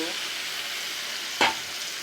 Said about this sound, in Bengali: এখন তরকারিগুলো একটু কষাবো